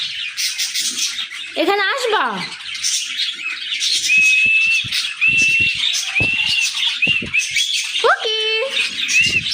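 A pet parrot squawks and chirps indoors, with a harsh rising call early on and repeated whistled tones later, all close and loud, while a person talks to the bird.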